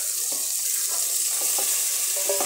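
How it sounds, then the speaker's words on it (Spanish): Onion, scallion and carrot stir-frying in a little oil over high heat, a steady close sizzle with scattered stirring clicks and scrapes throughout. "A fuego alto colocamos ya un toque pequeño de aceite. Colocamos los vegetales"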